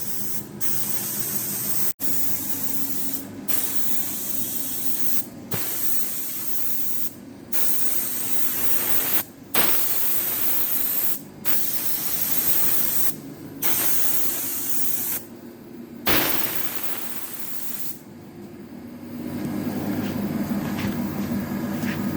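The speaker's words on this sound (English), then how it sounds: "taking her hand at airless spraying" An airless paint sprayer hisses loudly and close in long bursts while painting a boat oyster white, broken by brief pauses as the trigger releases, repeating steadily over twenty seconds.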